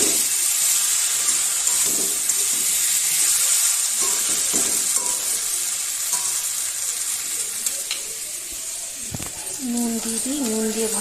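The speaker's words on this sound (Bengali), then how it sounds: "আলু দিয়ে ভাজি।" Potatoes fry in hot oil in a pan at home, giving a steady, bright sizzle with occasional stirring scrapes, and a voice speaks briefly near the end.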